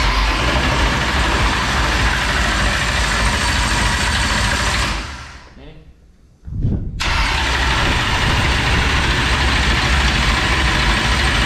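A race car engine running loud and steady, cutting out for about a second, then cranking and firing back up to a strong, close idle, with no voices.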